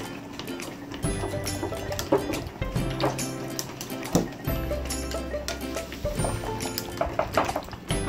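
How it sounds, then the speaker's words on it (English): Soap and salt slime mixture is stirred in a bowl, giving wet sloshing and squelching strokes with knocks and scrapes, close and fairly loud, with a low hum under it. "Stir it in, bud. Stir it good."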